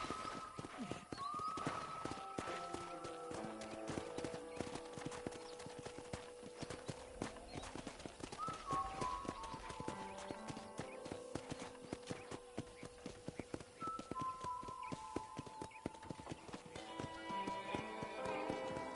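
A horse walking on a ranch in Red Dead Redemption, its hooves clip-clopping in a steady rhythm under game music, with an occasional whinny.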